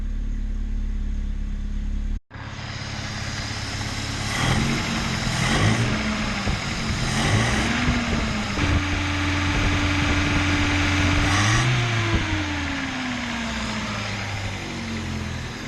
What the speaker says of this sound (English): So we've got to start the car up now, let it warm up